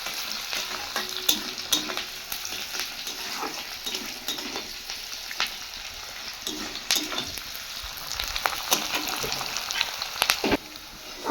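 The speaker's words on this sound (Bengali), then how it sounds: "এবার আমি পেঁয়াজটা লাল লাল করে একবার ভাজে নেব। তো চলো পেঁয়াজটা ভাজা হোক।" Onions sizzle and fry steadily in a pan for mutton biryani, with occasional stirring scrapes and utensil clinks over the continuous hiss, close and fairly loud.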